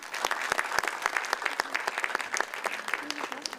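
An audience at a film event gives a moderate round of applause, individual claps distinct and irregular, with a faint murmur of voices beneath.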